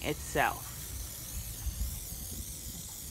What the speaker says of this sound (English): She's just really spraying it on quite liberally on top of the lettering